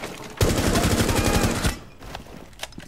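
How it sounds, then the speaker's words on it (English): Rapid automatic gunfire in the video game Rainbow Six Siege, Terrorist Hunt mode, rattles in a fast burst for over a second, followed by a few scattered fainter shots. "Who just shot at me? You do not shoot at me."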